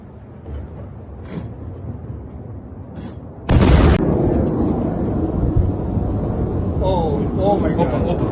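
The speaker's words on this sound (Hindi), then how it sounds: "किस तरह से प्रहार हो रहा था, किस तरह से लोगों की आवाजें आ रही थी" Strikes hit Tel Aviv at night: after a low background murmur with faint voices, a single sudden loud explosion bursts out, followed by sustained rumbling and crackle.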